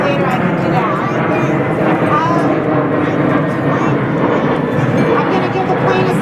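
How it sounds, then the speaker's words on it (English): An airplane passes overhead at an outdoor families' gathering. Its engine makes a steady, broad roar that holds throughout, heard under people talking nearby. "I'm going to give the plane a second to go by."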